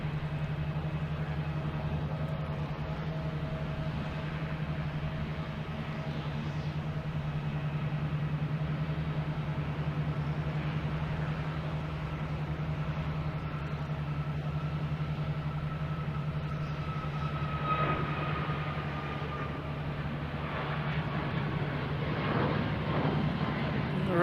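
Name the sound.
American Airlines 737 MAX 8 jet taking off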